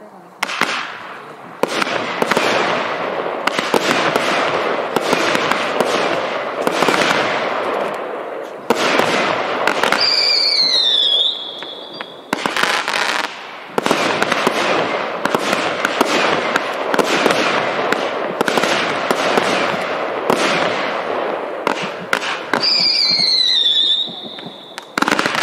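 Magnus 21-shot firework cakes fire rapid straight-up and fan-effect shots. The bursts are loud and close, with dense rhythmic volleys that run nearly nonstop. Bright whistling tails rise in two spots between the crackling reports.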